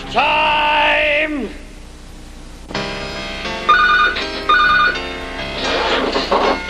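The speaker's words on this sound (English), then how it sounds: "I was woken by the phone, obviously." A telephone rings in a domestic setting, a loud electronic ring lasting about a second, then a pause before a series of shorter tonal ringing bursts with a noisy tail; no one speaks.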